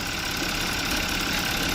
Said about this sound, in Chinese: 都回装完成后，启动发动机